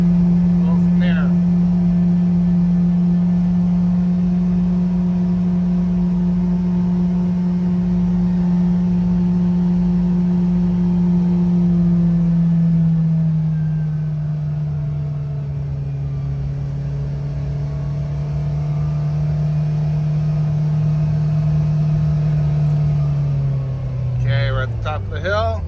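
A 2024 Kawasaki Ridge XR side-by-side with aftermarket clutch springs drives up a road, its engine a loud, steady droning hum that dips in pitch midway, then rises and swells near the end.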